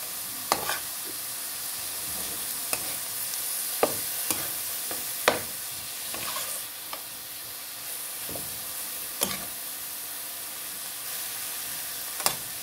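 Meat browning in a pan, with a steady sizzle as a utensil stirs it, sharp scraping clicks scattered throughout, close and alone without talk.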